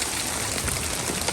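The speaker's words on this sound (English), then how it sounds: "It's still raining." Steady rain patters down on the ground and surfaces of a vegetable garden, a dense even hiss of drops close by with no voices.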